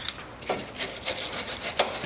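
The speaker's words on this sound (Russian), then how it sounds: "Щеткой по металлу." Wire brush scrubbing metal camber bolts on a 2008 Mitsubishi Pajero 3.2-litre, a series of close, rasping strokes in a steady back-and-forth rhythm, with no talking.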